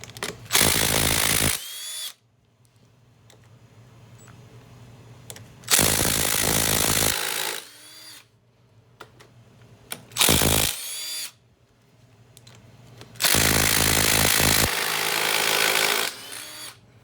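A cordless power drill backs out the brake cover bolts on a 2001 Honda 250EX ATV, four separate whirring bursts of one to two seconds each with quiet gaps between, close and loud, no voices.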